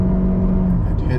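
A 2025 Toyota Camry LE Hybrid under full throttle gives a steady, loud, droning engine tone that holds through the whole brief moment.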